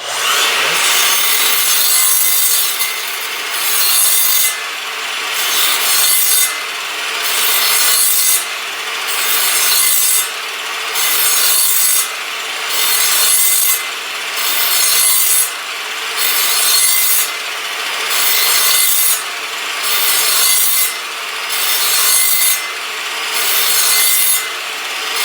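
A mitre saw plows a dado through wood in a steady series of about a dozen rhythmic rasping strokes, each a loud scraping pass with brief pauses between, close and clear with no voices.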